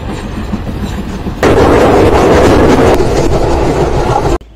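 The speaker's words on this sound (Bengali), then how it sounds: "বেনাপোল থেকে ছেড়ে আসা মংলাগামী মংলা কমিউটার ট্রেনের মনোমুগ্ধকর এক রেল যাত্রা" A Mongla commuter train running from Benapole gives a loud, steady rumble heard from close by, with the roar jumping in volume partway through and holding until an abrupt cut.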